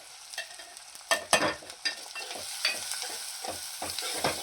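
Ground spices including Kashmiri red chili powder, turmeric and garam masala frying in oil for chicken sukka, a soft sizzle broken by repeated scraping stirs of a spoon against the pan.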